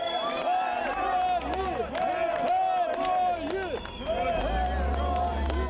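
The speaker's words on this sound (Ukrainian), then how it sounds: "Автобуси з бійцями зустрічали урочисто оплесками та вигуками герої." A crowd greets arriving buses of returning soldiers from the 80th air assault brigade, with continuous loud cheering, shouting and clapping throughout, voices layered over a low engine rumble.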